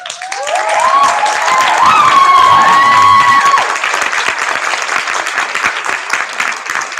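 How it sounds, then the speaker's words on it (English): An audience bursts into applause at a Long Beach school district board meeting, with loud, sustained clapping mixed with a whistle-like ringing tone, then easing into lighter scattered clapping. "She deserves an applause"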